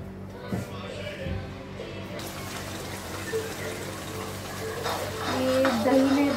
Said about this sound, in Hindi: अब ये पेस्ट भी आपका ऑयल छोड़ देगा, तब तक आपको भूनना है।